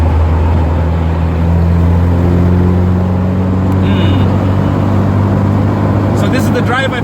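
A 1979 Alfa Romeo Alfetta 2.0 with a five-speed gearbox cruises along, its engine a steady low drone heard from inside the cabin while a voice talks over it.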